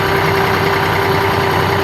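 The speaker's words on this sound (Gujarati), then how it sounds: "તો ચાલો આપણે પણ ટ્રેક્ટર લઈને જઈએ ગામમાં।" A tractor engine runs steadily on a village trip, a constant loud mechanical drone with a sustained hum and no change in pace, heard alone without speech.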